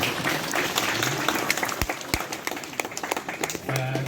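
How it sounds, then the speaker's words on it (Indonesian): Applause rises from the congregation at a church mass for the Ascension, a steady mid-level clatter of many hands with a couple of sharp knocks and voices murmuring underneath. "Kita tepuk tangan."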